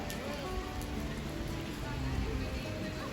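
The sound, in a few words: heavy rain falling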